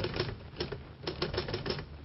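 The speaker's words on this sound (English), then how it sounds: "I'll type the expression out for you right now on my Underwood typewriter" An Underwood typewriter is typed on steadily, its crisp keystrokes landing in a quick, uneven rhythm with no voices over them.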